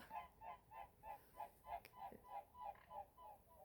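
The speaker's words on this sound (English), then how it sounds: "Two birds flying" Geese honk overhead as they fly past, a steady run of rhythmic calls repeating about every third of a second, moderately distant and fairly quiet.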